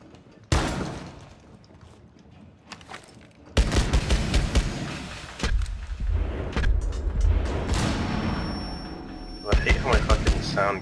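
Gunfire in the video game Rainbow Six Siege crackles in loud bursts and thumps, dense and close, mixed with players talking over the action.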